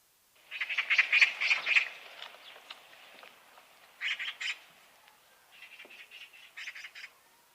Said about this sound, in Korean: 얘야, 저 새가 무슨 새냐? 까치요.